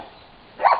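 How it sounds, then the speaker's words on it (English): A dog gives one short bark near the end of a quiet stretch at a homestead cabin in Alaska, fixated on something beneath the cabin; the bark is brief and fairly close. "Sorry about my dog. She's just fixated on something underneath the cabin."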